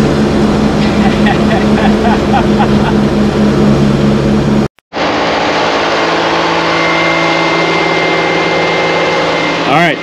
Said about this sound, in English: As you can see, the fan is kicked on.